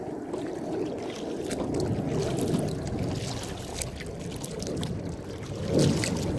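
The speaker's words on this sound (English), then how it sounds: "Is it picking up like the waves hitting the boat and stuff like that?" Water sloshes and laps against a kayak's hull in irregular splashes on a lake, with a light wind rumble over the mic.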